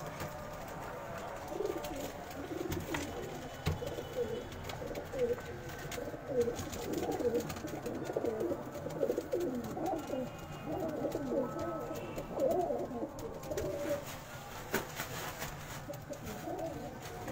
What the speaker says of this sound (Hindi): ये बड़े फेमस कबूतर हैं